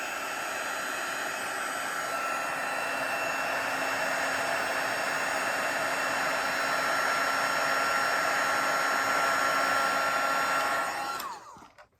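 A heat tool blows steadily for about eleven seconds, melting copper embossing powder on dark cardstock, a loud continuous whirring hiss that then cuts off sharply near the end.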